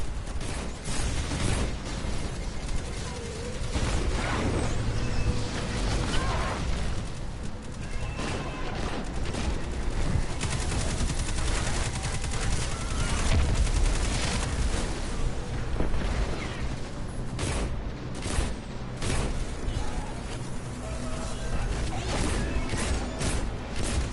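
Sustained gunfire from shooting Vex constructs in Destiny 2, a dense, steady stream of rapid shots and mechanical clatter lasting throughout, loud and close with no gaps.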